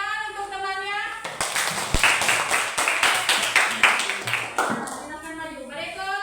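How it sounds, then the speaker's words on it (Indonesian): A classroom of students claps for classmates who have just presented, a dense burst of hand claps lasting several seconds, with voices talking before and after. "Ya, tepuk tangan untuk temannya."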